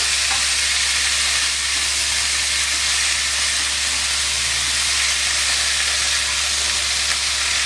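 Boiled banana flower is stirred into spices in a hot pan, producing a loud, dense, unbroken hiss and sizzle close up, with a low steady hum underneath and no voices.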